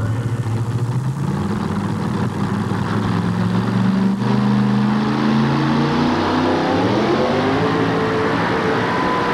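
A Dodge truck fitted with a Chrysler engine drags a sled down a packed clay track at a 1987 TNT pulling event in Louisville, its engine roaring loud and steady throughout, the pitch climbing gradually as the pull goes on.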